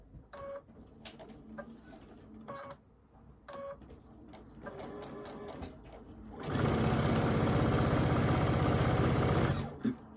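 A sewing machine stitching a quilt block, with short stop-start bursts of stitching early on, then a long continuous loud run of fast rhythmic whirring up close, with no talking.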